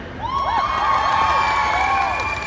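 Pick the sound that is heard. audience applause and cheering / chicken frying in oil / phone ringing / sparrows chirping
audience applause and cheering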